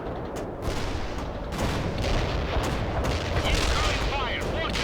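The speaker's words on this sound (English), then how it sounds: "Incoming fire. Watch out." Gunfire and explosions from the war video game World in Conflict, a dense continuous barrage of shots and booms that builds in loudness, with crackling bursts higher up.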